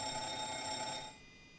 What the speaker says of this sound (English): He's going through the alarms.